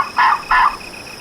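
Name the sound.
wild turkey gobbler gobbling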